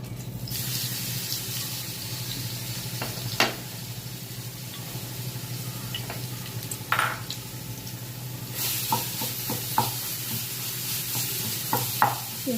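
Ground garlic sautéing in sesame oil for a garlic podi side dish, a steady close sizzle running throughout with occasional scrapes and stirring knocks of a spoon against the pan, no voices.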